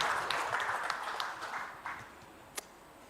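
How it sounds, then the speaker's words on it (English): Applause from the room at a validation workshop on a national e-payments strategy, a scattered round of clapping that starts fuller and thins out, ending with a few isolated claps. "Can we just give them a round of applause?"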